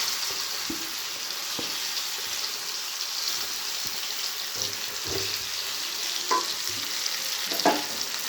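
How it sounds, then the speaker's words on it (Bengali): Sandwich filling frying in mustard oil in a wok, a steady close sizzle with occasional soft knocks from stirring and faint clatter, no talking. "দেখো কড়াইয়ের মধ্যে নিয়েছি সর্ষের তেল, তার মধ্যে এই পুরটাকে আমি ঢেলে নিচ্ছি।"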